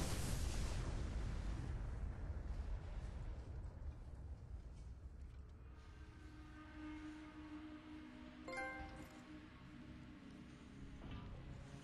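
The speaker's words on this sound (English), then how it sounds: "Dropping all my grenades on this fool." Grenade blasts in Space Marine, a loud booming explosion at the start that fades into a long rumbling tail, followed by a further sharp burst later and softer battle noise, no talking.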